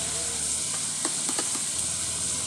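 Cassava frying over a fire gives a constant, loud sizzling hiss, with a few soft stirring scrapes in the middle.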